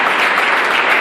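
A church congregation bursts into loud, dense applause, a close wall of clapping hands lasting about a second.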